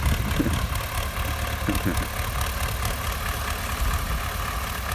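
An MTZ tractor engine idles with a steady, loud, low rattling chug close by outdoors, the rhythm unbroken throughout, while a person talks over it at times.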